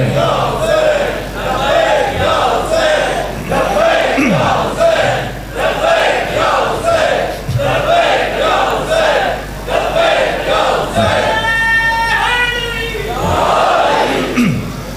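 A large congregation on Ashura, 10 Muharram, chants a slogan in loud, rhythmic unison. Repeated cries come back in waves that fill the space for the whole stretch.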